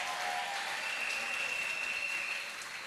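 A church congregation at a Sunday service claps in steady, dense applause, with faint voices mixed in as the clapping eases toward the end.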